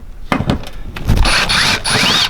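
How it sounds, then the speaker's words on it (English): Phillips head screwdriver backing screws out of a metal access plate inside an Audi Q5, giving several close, sharp ratcheting clicks and scraping turns that come in short bursts, with a tool clink in between. "So we use a Phillips head screwdriver."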